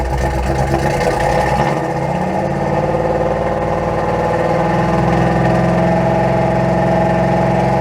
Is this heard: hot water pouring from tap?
no